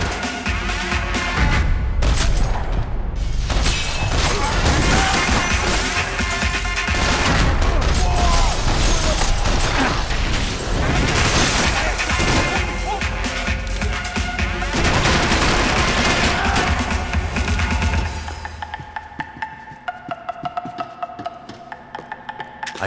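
Gunfire from the Max Payne 3 video game: sustained, dense shooting and booms on a dance floor, during which a man crashes through a glass window, then a quieter tail with scattered impacts.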